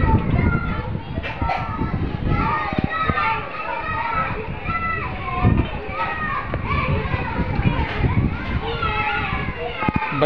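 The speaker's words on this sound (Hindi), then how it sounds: "बच्चों के लिए तो अच्छा मौसम हो गया, एंजॉय कर रहे हैं बारिश।" Children shout and chatter while playing outdoors in the rain and strong wind, their excited voices overlapping continuously and fairly close by.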